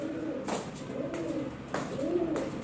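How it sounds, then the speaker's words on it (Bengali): Several pigeons coo in repeated soft, rolling phrases close by, with a few brief rustling bursts between the calls and no talking. "ও এখানে পায়রা এত এসছে কি বলবো"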